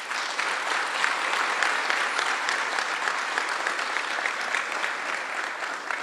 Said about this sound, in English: Please give Robert a round of applause.